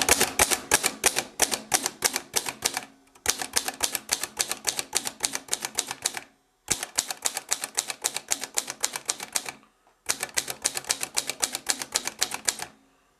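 A 1929 Corona typewriter typed across all its keys in four quick bursts of crisp, close clacking, each run separated by a short pause.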